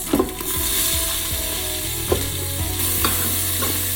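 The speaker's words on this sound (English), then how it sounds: "we will also saute up the onion" Chopped onions and bacon sautéing in a pot for keto chicken soup, a steady sizzle with a spoon stirring and scraping the pot in several distinct strokes.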